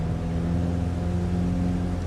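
A light aircraft engine runs at high revs during takeoff in a flight simulator. It makes a steady, loud, droning hum with a strong, unwavering tone throughout.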